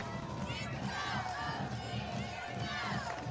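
Dense crowd roar and cheering from fans and cheerleaders at a high school football game against Oak Grove, with shouting voices and a steady wash of noise throughout.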